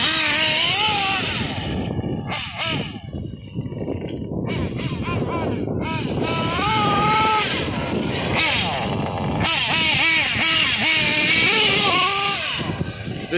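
A Kyosho RC car's nitro engine revs and whines in high-pitched bursts, rising and falling through the clip, with someone talking over it.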